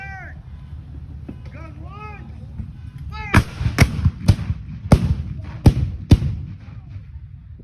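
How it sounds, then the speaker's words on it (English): Six sharp, booming blank cannon blasts with cannon-grade gunpowder at a Civil War reenactment ring out in quick, irregular succession, each loud and percussive, following a stretch of quieter background noise with faint chirping. "The powder is actual cannon-grade gunpowder, and it does make a sound"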